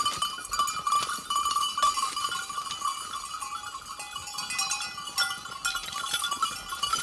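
Bells of a goat herd ringing steadily as the goats head out from the farm in the morning toward nearby woods, a continuous clanking with scattered faint bleats, no talk.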